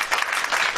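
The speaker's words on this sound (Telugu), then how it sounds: "అందరికి. క్లాప్స్" Children clap together at a kids' club lesson, a brief, steady burst of applause filling the short moment with no talking over it.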